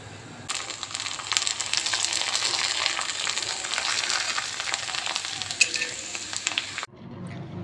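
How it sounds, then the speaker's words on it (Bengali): Rice papads deep-fry one by one in hot oil in a kadai, a loud, dense bubbling sizzle with fine crackles that starts abruptly, holds steady for several seconds, then cuts off. "কড়াইতে তেল গরম করে দেখো আমি এক একটা করে পাঁপড়গুলো ভেজে দিচ্ছি"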